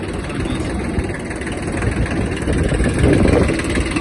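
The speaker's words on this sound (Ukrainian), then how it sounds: "Давайте дамо трактору трохи прогрітися" A Kubota XB-1 Japanese mini tractor engine idles steadily while warming up, a loud, close, continuous diesel rumble with no voices.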